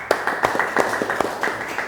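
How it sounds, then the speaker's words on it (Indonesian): Clapping for the top-ranked student in a vocational school networking class, a small group of hands beating in an uneven, quick rhythm, moderately close and alone without talk. "tepuk tangan untuk Abrar"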